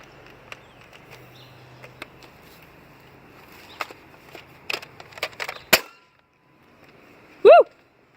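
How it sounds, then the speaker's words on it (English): A Nerf Rival Apollo blaster fires outdoors at a tree, giving a single sharp snap after a run of light clicks and rustles, then a brief loud tonal sound. "This time we're gonna shoot the tree."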